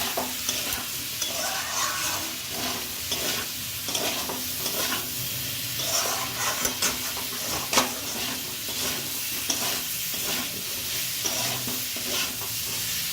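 Vegetables with turmeric stirred and frying in a pan for Malabar spinach with shrimp, a steady sizzle broken by repeated scraping strokes of a spoon, close and continuous with no talk.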